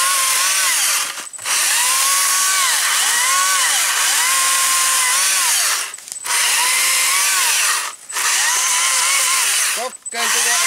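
A Stihl MSA 120 C-B battery chainsaw cuts wood in several loud, sustained bursts with a whining motor pitch that rises and falls as it bites, separated by three or four brief pauses.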